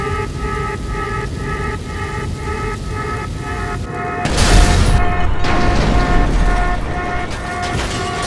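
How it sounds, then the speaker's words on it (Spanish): A car doused in gasoline and set alight in GTA 5 erupts in a loud, sudden explosion, a heavy boom with a rushing roar that breaks over steady engine-like hum and then trails off into crackling burning. "La explosión alertó a Franklin y Michael. Sabían de inmediato que había sido su coche."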